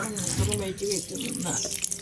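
Water splashes and pours from a tap to wash a frog, a close, uneven gush with drips while a voice speaks over it.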